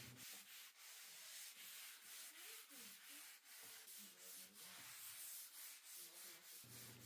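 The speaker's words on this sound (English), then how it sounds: "came back with that 400 grit sandpaper or sanding sponge and lightly went over" Painted antique furniture is lightly sanded with 400 grit sandpaper or a sanding sponge, heard as close, rhythmic back-and-forth rubbing strokes in a steady repeating pattern with short pauses between passes.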